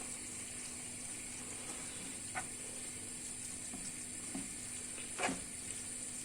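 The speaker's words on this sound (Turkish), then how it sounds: "Ondan sonra bunları güzelce karıştıralım." A seasoned minced-meat börek filling is stirred in a bowl, faint soft scraping and occasional light clicks of the spoon over a steady background hiss, with no talking.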